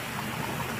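Steady rain hisses in an even, continuous wash during a police arrest outdoors, moderately loud with no voices over it.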